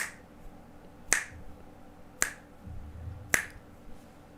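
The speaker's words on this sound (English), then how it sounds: "So if I have a metronome going" A metronome gives four sharp, evenly spaced clicks about a second apart. They are moderately loud against a quiet background.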